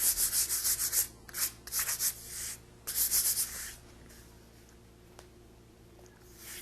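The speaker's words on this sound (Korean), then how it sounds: "물감이 마른 뒤에 사포를 한 번 더 해주시고요." Sandpaper rubbed over dried white paint on a folk-art piece, in quick rhythmic bursts of scratchy strokes for the first few seconds, then a pause with only faint rubbing, close and clear.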